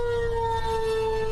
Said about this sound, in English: You can hear the tornado sirens just a little bit there.